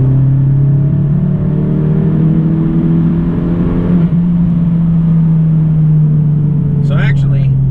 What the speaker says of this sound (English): Let's do another fourth gear pull from 3 grand.